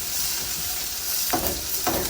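Chopped onion frying in a pan, a steady loud sizzle with two brief stirring scrapes near the end and no talk.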